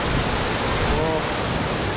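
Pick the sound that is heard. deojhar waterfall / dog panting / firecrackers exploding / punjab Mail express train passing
deojhar waterfall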